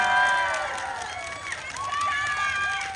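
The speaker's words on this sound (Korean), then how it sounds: "우리 MC 전철 선배님께도 큰 박수 한번 부탁드리겠습니다" Crowd applause and cheering at an outdoor festival concert, a broad steady wash of clapping with high shouts and whistling voices mixed in throughout.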